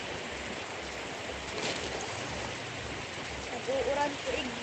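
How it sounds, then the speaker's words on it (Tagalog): Heavy rain pours down steadily as a dense, even hiss that fills the whole clip, with a faint voice briefly underneath. "Grabe, lakas na ulan"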